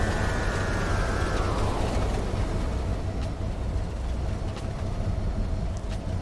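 Train in the Rigs of Rods driving game rumbles along steadily, with a falling tonal whine early on and faint clicks later, continuous and moderately loud, no voices.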